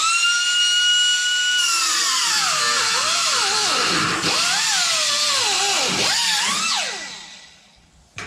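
A power tool grinds excess spot weld from the floor panel of a 1940 Ford pickup, a loud continuous whine that rises and dips in pitch as the load changes, then winds down and stops near the end.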